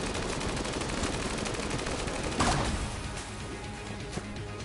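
Rapid pistol gunfire in the video game Enter the Gungeon, a dense stream of quick shots through the whole stretch with a louder burst near the middle, no voices.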